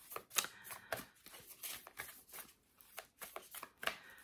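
Oracle cards being shuffled and drawn, with quick papery riffles and soft flicks in uneven bursts, close and fairly quiet.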